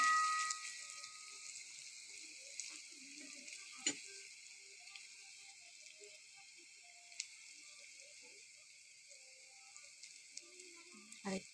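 Bora fritters frying in a small wok, a soft steady sizzle with faint crackles and occasional clicks, quiet and close throughout.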